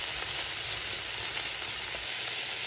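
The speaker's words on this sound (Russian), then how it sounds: "И вот 2 минутки обжарился у нас лук с перцем." Onion and bell pepper fry over high heat in a pan, making a loud, dense, continuous sizzle that holds steady with no voices.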